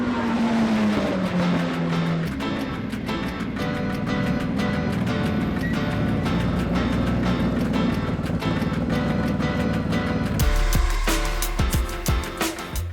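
A K24-engined Ferrari race car laps the track at WTAC 2023, its engine roaring loudly and continuously up close with rapid gear-change pitch shifts throughout, then a sharp change in tone near the end.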